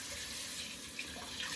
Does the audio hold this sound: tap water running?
yes